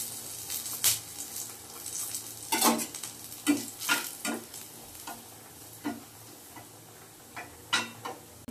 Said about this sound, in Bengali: আর এখন দেব রসুন কুচি ফোড়ন দিয়েছি।